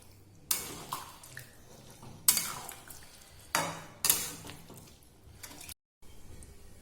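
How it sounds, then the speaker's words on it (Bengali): Green beans are stirred in a pan with a splash of water. Four distinct bursts of clattering scrape and hiss come at irregular intervals, each fading quickly into quiet, with no voices. "আমি পুরো জিনিসটাকে নেড়ে ছেড়ে দেবো।"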